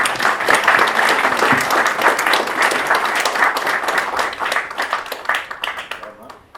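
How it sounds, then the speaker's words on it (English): Applause from mourners at a celebration of life, a steady crowd of hands clapping loudly for several seconds and then thinning out toward the end. "I'd like to acknowledge that with a round of applause."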